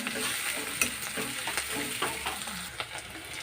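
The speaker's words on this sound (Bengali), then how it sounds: "দেখুন আমার পেঁয়াজ রসুনটা লাল লালভাবে ভাজা হয়ে এসেছে" Chopped onion and garlic sizzle in a hot pan, a dense steady crackle broken by brief scraping stirs, close and alone.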